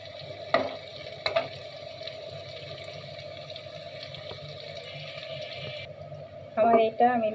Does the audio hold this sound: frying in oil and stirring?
yes